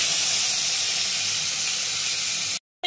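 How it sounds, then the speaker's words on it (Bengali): A ginger, green chilli and cumin paste hits hot oil in a pan while cooking papaya malai curry, giving a loud, steady, close hiss that cuts off abruptly near the end. "এবারে আমি প্রথমে এই আদা, কাঁচা লঙ্কা আর জিরে যেটা বাটা ছিল সেইটা দিয়ে দেবো। এটা একটু ভাজা হবে।"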